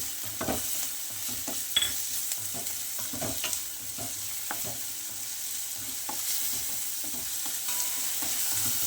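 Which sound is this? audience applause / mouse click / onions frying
onions frying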